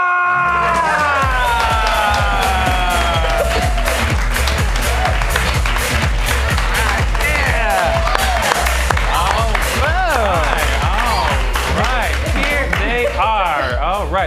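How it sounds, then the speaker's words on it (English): A live audience applauds the cast at a Saturday night comedy show: loud, sustained clapping mixed with high whoops and cheers that rise and fall throughout, with no talking over it. "Give them the biggest, warmest round of applause!"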